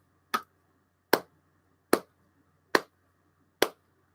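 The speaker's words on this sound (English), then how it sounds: "I'll give you a slow clap." One person gives a slow clap: five sharp, evenly spaced hand claps about a second apart, close and distinct against a quiet room.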